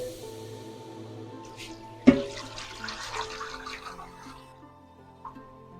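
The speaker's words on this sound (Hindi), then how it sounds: "अब ये देखें, ये सारा पानी भी इसमें हम डालेंगे।" Water pours from a vessel into a pressure cooker holding beef paya, a sudden splash followed by a few seconds of quieter gurgling and trickling in an otherwise quiet kitchen.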